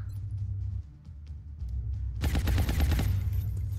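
A gunner fires in XCOM Long War, producing a loud, rapid burst of automatic gunfire that starts abruptly after a low ambient hum and rattles on for over a second.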